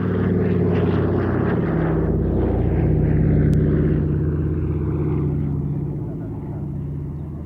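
Douglas C-41, the Dakota's immediate predecessor and a wartime personal transport, at an air show: a loud, steady propeller drone and engine rumble that eases off slightly near the end, with voices talking over it.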